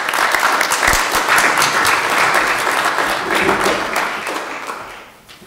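An audience at a talk on sustainable seas breaks into sustained, dense applause to welcome a speaker, loud and even throughout before tapering off near the end.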